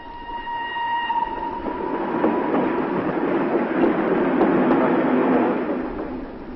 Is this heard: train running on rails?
yes